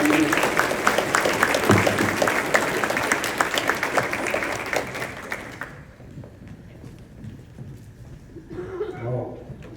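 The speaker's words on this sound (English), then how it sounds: "Let's give him another round of applause." An audience at a university IEEE semiconductor summit breaks into loud, dense applause that fades after several seconds to near quiet, then a few faint voices and scattered sounds follow.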